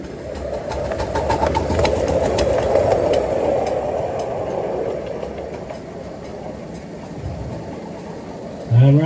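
Small steam locomotive No. 135 Anna chuffs and rattles along a light railway at an anniversary gala, a steady mid-distance rumble with faint rhythmic clicks, ending with a brief nearby voice.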